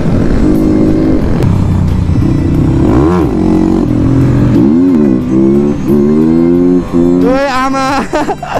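Dirt bike engine revving and straining as it climbs uphill on a jungle trail ride out of Kathmandu toward Godawari, loud and close with rising and falling pitch sweeps as the throttle opens, continuous throughout.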